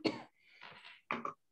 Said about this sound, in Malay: batuk kering tekak